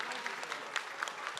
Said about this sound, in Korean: 우리 같이 자리에서 일어나서 큰 박수로 맞이해 주셨으면 합니다